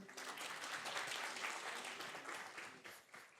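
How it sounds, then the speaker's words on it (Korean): At a conference session on digital society strategy, an audience claps steadily to welcome a speaker, a dense, even wash of applause that tapers off toward the end. "여러분 큰 박수로 환영해 주십시오"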